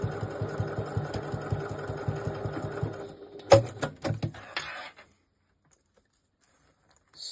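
A sewing machine top stitches a pocket onto a bag panel, buzzing rapidly for about three seconds. A few sharp clicks and short bursts follow, then it goes silent.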